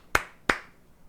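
Two sharp hand claps about a third of a second apart, close and distinct against a quiet background.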